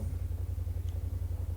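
A Kymco AK550 scooter engine idles nearby in a steady low, pulsing throb, with a brief hissy burst at the very end.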